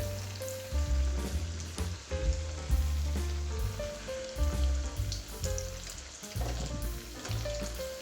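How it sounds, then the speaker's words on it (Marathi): Chakli made from leftover chapati fry in hot oil over medium heat, a loud continuous close-up sizzle and bubbling with no voices. "चकल्या तेलामध्ये तळून घेऊ गॅस मध्यम ठेवायचा आहे"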